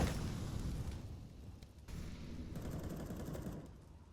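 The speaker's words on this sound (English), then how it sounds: "Great nade coming through" A grenade blast in CS:GO, heard during a grand final on the Nuke map, opens loud and close. It is followed by a steady spray of rapid gunfire and smaller bursts that continue through the clip.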